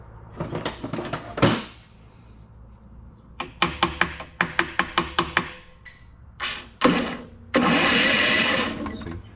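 Sharp metallic hammer blows on a Honda HR215K push mower in a quick series of about a dozen strikes, with scattered clanks before and a steady hiss near the end.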